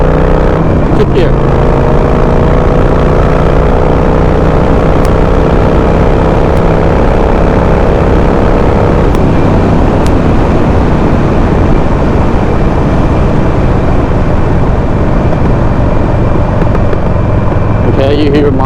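A Harley-Davidson motorcycle engine running on a FuelMoto map tune pulls steadily up through its gears, with rising pitch sweeps between shifts and a loud, continuous exhaust drone throughout, with a few sharp pops.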